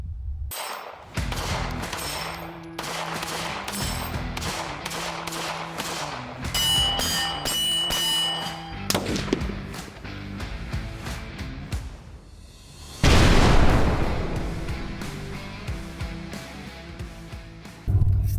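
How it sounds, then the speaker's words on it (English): A Sig Sauer P365 X Macro Legion pistol fires at an outdoor range, sharp loud reports coming one after another in uneven bursts, close to the listener, with ringing and clatter between the shots. "So we're going to shoot this thing here at the range, put the first 50 rounds or so through it"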